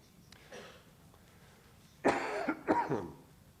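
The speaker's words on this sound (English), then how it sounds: "I'm going to cough a little bit" A couple of hoarse coughs sound close by after a faint throat noise, in an otherwise quiet room.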